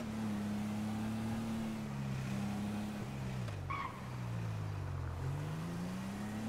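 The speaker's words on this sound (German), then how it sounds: "das hört sich echt nicht gesund an mit dem Auto" A car engine in the GTA video game runs roughly, a steady low droning hum whose pitch wavers and dips, faint and continuous with no talking.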